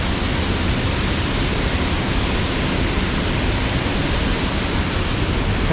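A waterfall in an Ohio gorge roars as a steady, loud, unbroken rush of water with no voices over it.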